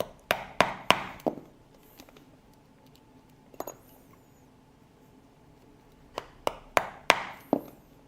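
Stitching holes are punched into leather for a small briefcase, giving sharp close mallet strikes on a chisel: a quick run of four knocks, a single blow, then another burst of several, with quiet pauses between.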